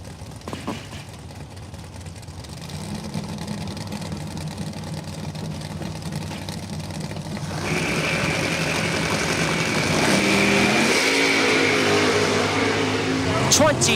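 A Chevrolet S10 and a 1990 Camaro sit idling at a drag strip before launching, the engines building into a loud revving roar, with an announcer talking over the rising noise.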